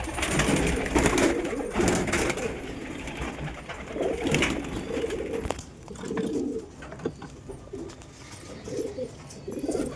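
Several pigeons coo in low, throaty bursts, repeating at irregular intervals over rustling and scuffling noises close by.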